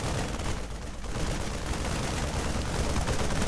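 Continuous rattling gunfire from Banshees attacking Zerglings in StarCraft, a dense, steady barrage of overlapping shots filling the whole stretch without pause.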